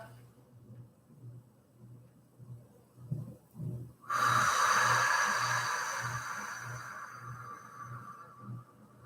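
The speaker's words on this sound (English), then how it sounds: "Give me one more nice big deep breath." Deep breathing during a guided relaxation session, slow rhythmic breaths heard close, then a long, loud hissing exhalation that fades gradually over several seconds.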